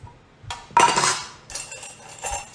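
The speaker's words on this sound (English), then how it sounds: "let me grab a measuring cup" Dry measuring cups clink and clatter as a cook grabs them in a home kitchen: a few close, sharp metallic knocks and jingles across a couple of seconds.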